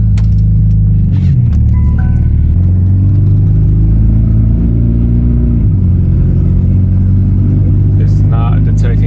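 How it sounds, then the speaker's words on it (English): A loud, rumbling 1996 Honda Odyssey engine with an exhaust leak idles and revs with a rough, low exhaust drone throughout, close to the microphone. "I got an exhaust leak, so that's why it's loud."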